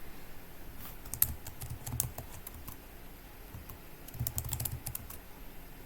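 Computer keyboard being typed on while entering invalid passwords at a Windows 10 login, with quiet scattered keystrokes in short bursts and a faint background hum.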